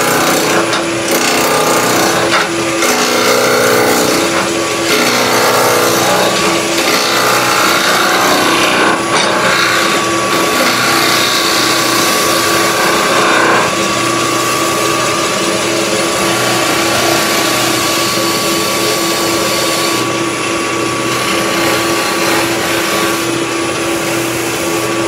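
A wood lathe turns a German smoker figure, a loud continuous mechanical whir and drone with a steady cutting rasp as the waste wood is taken off, close and unbroken throughout.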